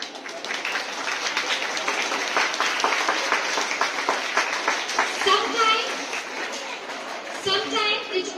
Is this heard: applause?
yes